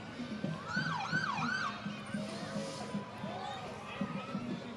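Fire and police department sirens wail in rising and falling sweeps during a street parade, moderately distant, with people talking over them and crowd noise underneath.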